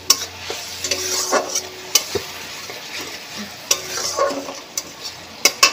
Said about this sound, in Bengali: চলো মশলাটা কষিয়ে নিই।